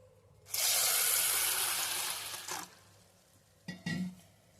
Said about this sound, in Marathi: म्हणून साबुदाणा आपण धुवून घेणार आहे।